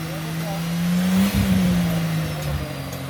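An off-road vehicle's engine idles in neutral and is given a little gas while winching, a steady low drone that swells and dips briefly partway through.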